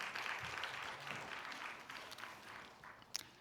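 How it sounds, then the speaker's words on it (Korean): Congregation applause in a church service after a family greeting, faint and distant, a soft steady patter of many hands clapping that gradually fades, with a brief sharper tap near the end. "다시 한번 큰 박수로 여러분 격려하며 축하해 주시기 바랍니다"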